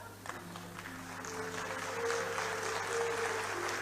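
Audience applause at a Kumar Vishwas poetry recital, a broad clatter of many hands clapping that swells and holds, with a faint sustained tone beneath.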